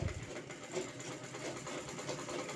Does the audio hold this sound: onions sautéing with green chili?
no